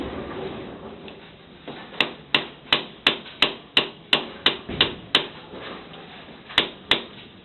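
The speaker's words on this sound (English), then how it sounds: "Now I just got to tap it enough to where I get where I can connect my split ring onto this wheel" A sprocket gear wheel is tapped onto an axle with a series of sharp metallic taps, about a dozen evenly spaced close hits followed by two more after a short pause.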